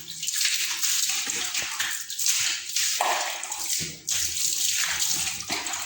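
Water splashes and runs in uneven bursts in a bathroom while a wooden table is washed, with scrubbing and sloshing sounds close by and brief pauses between pours.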